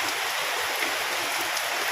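Heavy rain falls outside before dawn as a steady, even hiss of downpour with no breaks, at moderate loudness.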